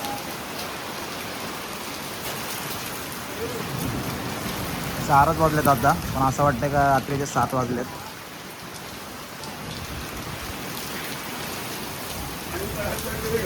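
Heavy rain pours steadily with hail falling, a dense hiss filling the whole stretch while a person talks for a few seconds in the middle.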